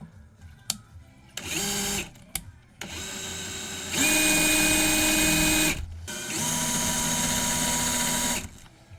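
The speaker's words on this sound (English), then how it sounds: "I'm going to try to drill a hole right here and maybe here to relieve that pressure that's building up behind" A power drill bores a hole into a holiday model train layout, whining in several loud bursts of a few seconds each with short pauses between, the longest runs near the end, close and alone without talk.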